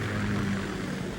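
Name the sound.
Kamov Ka-60 Kasatka helicopter in Metal Gear Solid 2 video game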